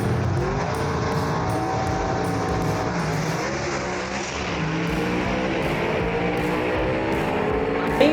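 Loud engine roar of a gasser drag race between a 1958 Corvette and the Agent Orange 1966 Chevy II, a dense sustained rumble with shifting harmonics, steady throughout and swelling at the end, no voices.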